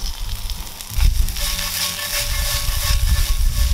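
Red onion sizzles in a hot pan during outdoor cooking beside a canal, a steady crackling hiss with some low rumbling from the open air.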